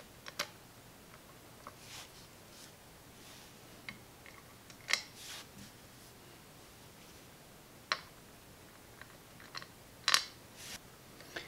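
Screws being tightened on an Electro Voice horn tweeter during repair, heard as faint, scattered small clicks and ticks from metal hardware in a quiet room.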